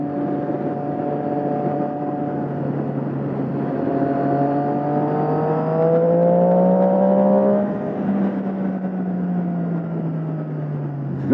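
A Triumph Street Triple 675 motorcycle pulls hard in first gear, its engine note climbing steadily in pitch before levelling off into a sustained, loud drone with a whooshing rush underneath.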